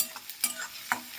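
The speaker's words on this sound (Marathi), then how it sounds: "कांदा टोमॅटो अगदी मऊ होईपर्यंत आपल्याला भाजून घ्यायचा आहे" Onion and tomato being stirred and fried in a pan until soft: a few soft scraping stirs over a faint sizzle, close by, with no talking.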